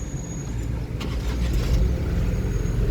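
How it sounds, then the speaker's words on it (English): A Dacia Sandero Stepway's engine turns over and settles into a steady low idle, close and fairly loud, with no one talking. "We'll just start it up."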